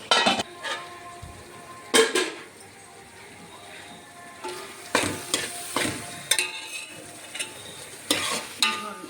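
Mutton curry ingredients fry in a pot with a low sizzle while a spoon stirs in bursts, giving loud metallic scrapes and clanks against the pot and quieter stretches between them.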